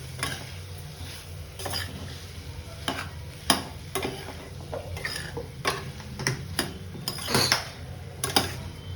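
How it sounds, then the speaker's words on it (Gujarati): Kantola sabzi is stirred and mixed in a cooking pan under a low sizzle, with a series of close, irregular scraping knocks of a utensil against the pan. "અને હવે એને આપણે પ્રોપર રીતે મિક્સ કરી લઈશું"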